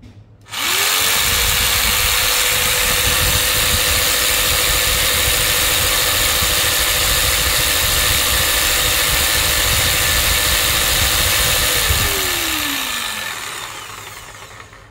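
A DongCheng DMQ85S jigsaw runs at its highest speed, a loud, steady motor whine that holds for about eleven seconds, then spins down as it is switched off.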